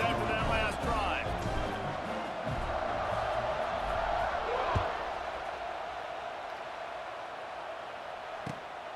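Stadium crowd noise in the College Football 26 video game after a scoring drive, a broad sustained roar that slowly fades, with a couple of sharp thuds and commentary voices talking over it.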